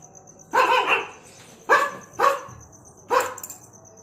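A man imitates a dog with three sharp, close vocal barks spaced about a second apart, the last one slightly drawn out, over a quiet background with a faint steady tone.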